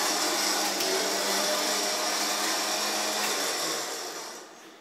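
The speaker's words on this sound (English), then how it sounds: "When there's no load on this winch, it goes very fast." A Warrior Samurai S9500 high-speed winch spools out fast with no load, a loud, steady whirring whine that runs continuously before fading at the end.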